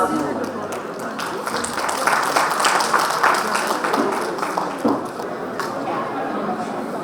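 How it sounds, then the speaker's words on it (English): An audience at a business talk on AI-orchestrated customer experience claps to welcome a speaker, continuous moderate applause with scattered chatter and a few voices mixed in. "let's all put our hands together and welcome the gentleman with a round of applause"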